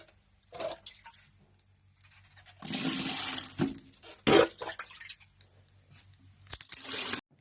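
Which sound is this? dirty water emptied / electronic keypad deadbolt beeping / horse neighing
dirty water emptied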